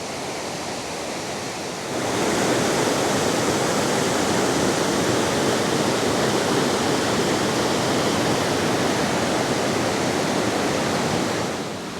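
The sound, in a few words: creek water cascading down mountain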